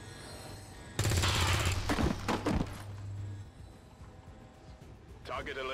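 Burst of gunfire from the XCOM 2 strategy game, a loud sharp volley of shots with a low rumble that fades into quieter game ambience, then a second stir of action near the end.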